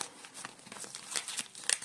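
A paper banknote crinkles softly as it is handled and tucked into a cash-envelope binder, a faint, close rustling with brief crisp bursts and no talk.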